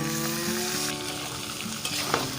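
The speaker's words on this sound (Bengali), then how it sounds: "দিয়ে দিচ্ছি আলু টমেটো মটর।" Potato, tomato and peas fry in a cumin and coriander spice paste, giving a close, steady sizzle with light stirring sounds and no voices.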